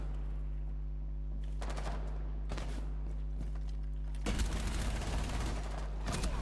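Automatic gunfire in the video game Rainbow Six Siege, bursts of rapid shots over a constant electronic hum, with a longer, louder volley toward the end.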